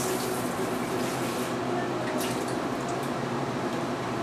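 Running water from a tap splashes over peeled hard-boiled eggs in a kitchen sink, a steady close hiss with no pauses.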